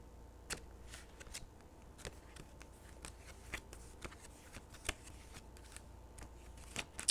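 Tarot cards being shuffled by hand, a soft continuous riffle of papery flicks and slaps, close and quiet.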